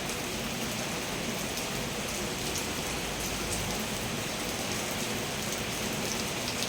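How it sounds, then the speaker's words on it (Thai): Steady rain falls continuously, a dense, even hiss of drops pattering on surfaces that stays fairly loud and unbroken throughout, with no voices. "ฝนตกสดชื่น แจ่มใส"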